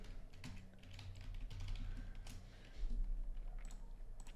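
Fingers tap a computer keyboard in quick, uneven bursts of close, crisp clicks over a low steady hum, with no voices.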